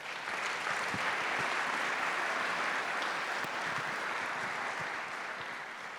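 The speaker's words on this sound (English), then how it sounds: "Let's give them one more round of applause." Sustained applause from a crowd at an athletics hall of fame induction ceremony fills the whole stretch, steady and fairly loud, with no speech over it.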